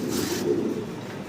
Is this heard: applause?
no